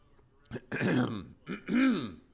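A person clears their throat twice in quick succession, close and raspy, with a short cough-like burst between them, during a live baseball play-by-play broadcast.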